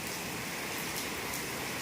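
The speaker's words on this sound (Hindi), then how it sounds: "आज पहली बार इतनी तेज़ बारिश हो रही है।" Heavy rain pours down in a dense, unbroken hiss, the steady patter of drops on surfaces continuing evenly and close by throughout, with no voices heard.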